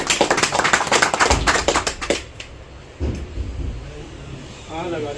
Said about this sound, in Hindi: जोरदार तालियां इस बार।